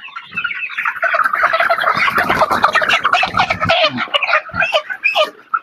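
Colour bird chickens on a farm cluck and squawk loudly and continuously up close, with rapid, overlapping calls as they are weighed.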